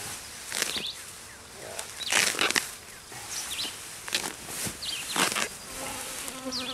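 A honeybee swarm being shaken down into a box, a dense close buzzing hum with bursts of louder wingbeats and scattered thumps as the bees drop, continuous throughout with no talking.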